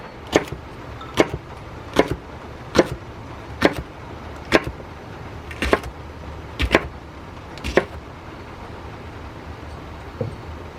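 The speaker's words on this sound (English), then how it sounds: "right now what I'm doing is I'm chopping up some fresh jalapenos and putting them in this jar" A knife chops fresh jalapenos for fermenting, about a dozen crisp, evenly spaced cuts landing roughly every second against a faint steady background, with no talking.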